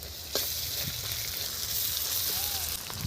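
Ginger sizzles in hot oil after garlic in a pan for a Bengali fish curry, giving a steady, dense crackling fry close by with a couple of faint stirring knocks.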